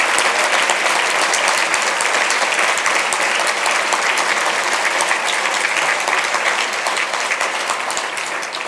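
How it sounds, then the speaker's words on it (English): Steady, sustained applause from a large audience at a South Florida Muslim community gathering, honoring the Miami-Dade Public School Police Department, an even wash of clapping that holds at the same level throughout. "Please give them a big round of applause."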